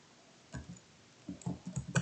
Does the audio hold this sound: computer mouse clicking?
yes